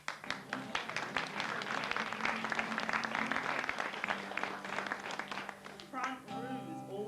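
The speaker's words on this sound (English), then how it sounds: "Give yourselves a clap." An audience in a community arts venue bursts into sustained clapping that builds and holds, dense and close, then thins out near the end as a voice begins speaking over the last scattered claps.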